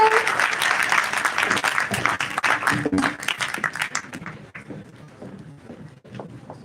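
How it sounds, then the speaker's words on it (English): A crowd in a college hall breaks into a loud, steady round of applause that thins and fades toward the end, with some voices mixed in. "A bit louder round of applause, please."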